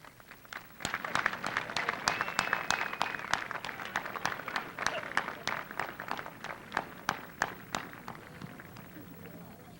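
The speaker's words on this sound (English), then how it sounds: "she deserves an extended applause" Extended applause at a 1997 high school graduation ceremony, with loose clapping that swells then thins out into sparse, distinct individual claps toward the end, fairly close and without talk.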